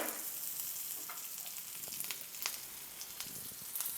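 Mustard seeds and curry leaves sizzle in hot oil in a pan, a steady crackling hiss broken by sharp pops, close and alone with no talking.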